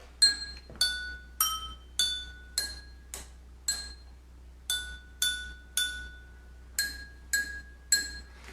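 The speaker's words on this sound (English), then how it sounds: "So I took 2 more glasses, and I started to work the notes for Mary Had a Little Lamb." Tuned drinking glasses are struck one at a time to play Mary Had a Little Lamb: about fourteen bright, ringing clinks at a steady walking pace. Each note rings clearly and alone, then fades before the next strike.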